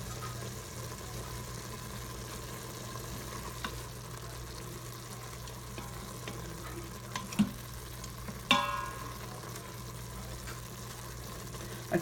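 Ground meat browning in a pan for Instant Pot taco pasta, a low steady sizzle under a constant hum, with a few sharp scrapes and clinks of a utensil partway through.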